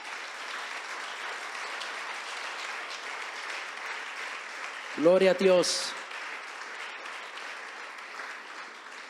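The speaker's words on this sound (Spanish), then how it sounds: "Le damos un aplauso fuerte al Señor" A church congregation applauds steadily for the whole stretch, a broad even wash of clapping, with a short spoken exclamation breaking through the middle.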